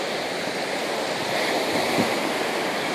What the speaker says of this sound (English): getting used to the beach and the ocean